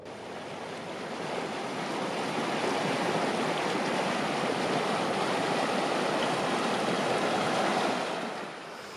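Meltwater from melting snow in Finnmark, Norway rushes steadily as a broad, continuous wash of flowing water, rising after the first second and holding loud and even before easing off at the end, with no voices.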